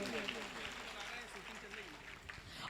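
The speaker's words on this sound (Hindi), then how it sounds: "बहुत जोरदार तालियां" Audience clapping at a cultural fair show for a magician, a continuous moderate wash of applause lasting a few seconds, with a voice talking faintly over it.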